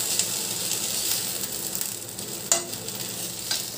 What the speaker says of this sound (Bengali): ওভেন মিডিয়ামে রেখে ঢেঁড়সগুলো আমি এইভাবে ভেজে নেব।